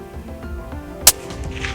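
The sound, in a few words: Ruger Precision Rifle gunshot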